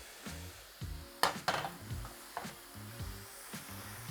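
Sweet and sour sauce hitting tempeh searing in a hot pan, a crackling sizzle with bursts of stirring and scraping, fairly close and steady with no talking.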